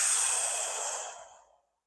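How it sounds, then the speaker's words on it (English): One long, loud exhale blasts straight into a close microphone during an exercise session, a breathy rush that fades away over about a second and a half, then silence. "I know you guys hate when I breathe because the mic gets really loud"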